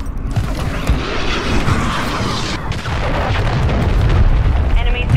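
In Call of Duty Modern Warfare 3 multiplayer gameplay, an incoming missile strike detonates in a loud, sustained rumbling blast with booming low-end and debris crackle that persists for several seconds amid ongoing battle noise.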